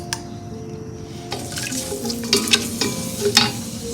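Cumin seeds, mustard seeds and dried chilies sizzle in hot oil with onions, a steady close frying hiss broken by scattered sharp pops and crackles.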